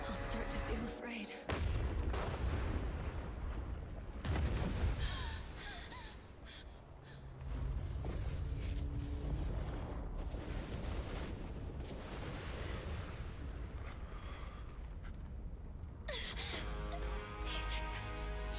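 Loud game explosions, booms and crashes from the action video game Zenless Zone Zero, with repeated heavy impacts over busy battle sound effects and music, while a voice talks throughout.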